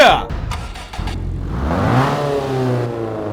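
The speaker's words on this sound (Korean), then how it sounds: "바로 시동 한번 켜볼게요 스타트" A small car engine cranks with a short rattling start, then catches and revs up, settling into a steady buzzing idle up close.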